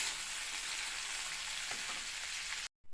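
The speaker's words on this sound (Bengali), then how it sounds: "ওই তেলেই আমি একটু কালো জিরে দিয়ে দিলাম" Nigella seeds sizzling and crackling steadily in hot oil left over from frying shrimp, a close, even hiss that runs without talk and then stops abruptly.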